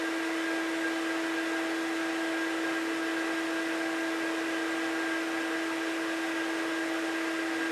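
Shop vacuum running steadily through a 20-foot hose into a 7-gallon bucket, a constant loud whooshing roar with a steady whine and no change in pitch, heard alone.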